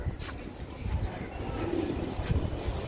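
Roller pigeons make soft, low cooing in a continuous rolling murmur, fairly close, with faint background noise and no speech.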